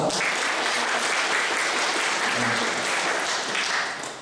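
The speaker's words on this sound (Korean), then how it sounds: "박수로 환영하겠습니다." Congregation applause welcoming a visitor during a Sunday church service, a full, even burst of clapping that stays loud throughout and eases off slightly at the end.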